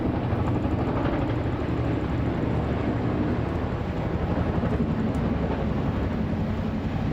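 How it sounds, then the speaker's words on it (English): Four military helicopters, a Chinook leading a Griffin, a Puma and an Agusta 109 SP, fly past over St James's Park in London, making a steady, loud, broadband rotor-and-engine rumble that holds throughout with no talking. "4 helicopters, led by the Chinook, a Griffin, a Puma, and an Augusta 109 SP."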